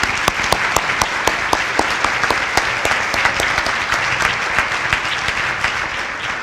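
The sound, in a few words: audience applause for award recipients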